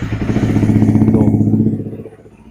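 A Yamaha R15 V3 motorcycle engine fires up and settles into a loud, close, steady idle rumble, then fades slightly, with no voices.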